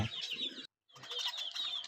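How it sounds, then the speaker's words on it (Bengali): Pigeons flutter their wings in faint, rapid bursts mixed with light chirping, broken by one short silent pause before the flapping and twittering resume. "কিছু কবুতর ছিল, কবুতরগুলো দেখে অনেক ভালো লাগছে।"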